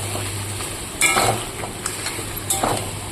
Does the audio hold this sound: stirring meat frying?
yes